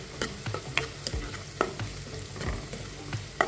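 Sliced onion sautéing in ghee while cardamom powder is stirred in, for an onion payasam; a steady gentle sizzle runs under irregular spatula scrapes and taps against the pan, close and moderately loud, with no talking.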